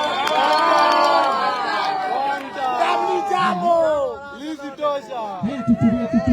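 Crowd cheering and shouting at an outdoor political gathering in Murang'a, a loud, dense mass of voices and whoops that swells at the start and breaks into scattered calls and claps toward the end.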